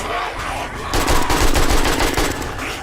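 Rapid gunfire rings out in 7 Days to Die on insane difficulty during a horde night, with a dense, loud burst of repeated shots running steadily for a couple of seconds.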